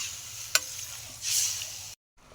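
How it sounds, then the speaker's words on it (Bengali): A pan of fish curry broth simmers nearby with a soft bubbling hiss. A single sharp click sounds early on, the fizz swells briefly, then there is a short silence before the bubbling resumes faintly. "ঝোল ভালো করে ফুটে গেছে"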